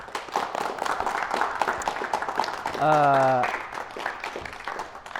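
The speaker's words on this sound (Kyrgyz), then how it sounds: "Аянанын дал ушул аракети үчүн кол чаап койбойсуздарбы?" A studio audience applauds on a Kyrgyz music talk show, with dense, steady clapping throughout and a brief tonal sound rising over it midway.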